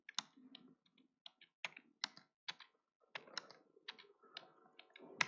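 Fingers type on a computer keyboard at close range, quiet irregular clicks in short bursts with small pauses, a faster run of keystrokes near the end, no voices.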